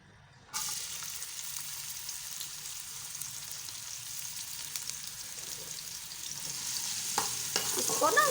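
Ginger and garlic hitting half a cup of hot oil in a cooking pot, starting with a sudden steady sizzle that carries on evenly and close, with a little stirring.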